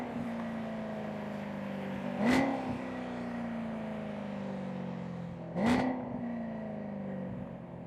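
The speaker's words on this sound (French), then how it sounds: "D'accord, voici quelques rétrogradages pour toi." BMW M3 fitted with a new exhaust blips through two downshifts, each a sharp, loud rev flare breaking a steady droning engine tone, spaced a few seconds apart, close to the car.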